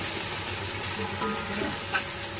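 Chicken yakhni pulao mixture with yogurt, nutmeg, mace and black cardamom powder frying in a pan, a low continuous sizzle with faint stirring scrapes and a brief clink near the end.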